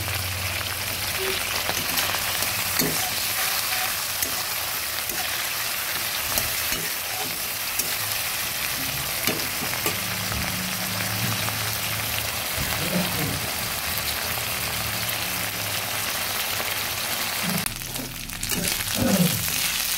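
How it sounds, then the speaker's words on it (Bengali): Onion, ginger and five-spice fry in a pan for a green pea ghugni with a constant crackling sizzle, stirred now and then, close up and steady, with a brief clatter near the end. "পাঁচফোড়ন, পেঁয়াজ, আদা সব ভাজা হয়ে গেছে।"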